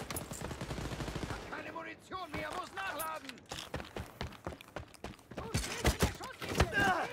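Gunshots from a headshot in the shooter game Wolfenstein: Youngblood crack out in sharp, rapid bursts, some close together and some spaced apart. Quieter shuffling and movement sounds fill the gaps between them.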